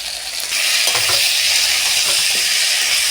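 Chopped onion goes into a pan where prawns and potatoes are frying, giving a loud, steady sizzle with a few stirring scrapes and no voices.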